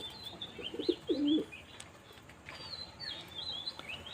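Pigeons give a couple of low, close coos in a short pair, with faint chirps and a quiet background around them.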